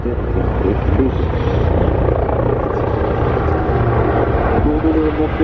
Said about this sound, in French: Olivier Jans, le pilote de cet hélicoptère aujourd'hui, pilote d'essai, effectue une valse exubérante.